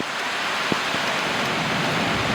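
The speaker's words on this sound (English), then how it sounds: "But I guess now it's just rain." Steady rain falls during a thunderstorm after a spell of hail, a dense continuous hiss with one brief tap near the start.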